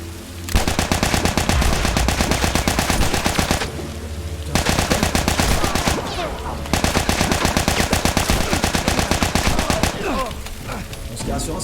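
Rapid bursts of automatic gunfire in The Last of Us Remastered video game, loud dense rattling volleys with two short pauses, fading toward the end.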